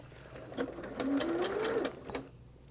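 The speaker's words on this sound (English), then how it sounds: "And that's just a little straight seam down the side." A sewing machine stitches a short straight quilt seam, with a close mechanical whir and rising motor whine that swells, then tapers off.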